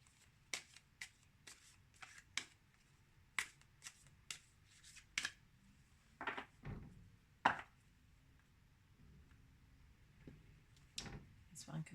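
Cards being shuffled in quick riffling bursts, a series of sharp crisp rattles close by, with pauses between them and a quiet voice at times.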